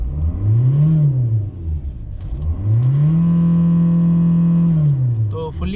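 A rebuilt Hyundai Elantra engine revs hard twice, the first a quick rise and fall, the second held high for over a second before dropping back to idle, loud and close.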